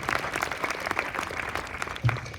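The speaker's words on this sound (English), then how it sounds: "let's give a round of applause to our directors for the season" Audience applause at a Great Falls Municipal Band summer concert, a steady dense patter of clapping from a crowd that holds throughout, with one louder thump near the end.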